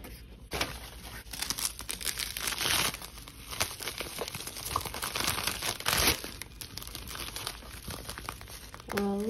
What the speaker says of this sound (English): let's cut the tape and see what we get inside